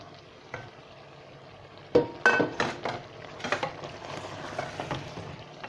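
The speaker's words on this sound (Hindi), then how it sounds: "2 मिनट इसको हम भून लेते हैं" Beef and boiled potatoes frying with ginger-garlic masala for biryani, quiet at first, then a burst of sizzling with repeated spoon stirring and scraping against the pot.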